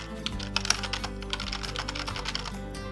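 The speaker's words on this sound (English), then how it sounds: "When you've typed in your first paragraph of text" Steady, close typing on a computer keyboard as text is entered into a blog post, a brisk continuous patter of crisp key clicks with no speech.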